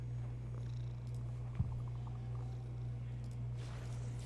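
Buddy, a pet cat, purrs close by in a low, continuous rumble that stays steady throughout, with one small soft bump partway through.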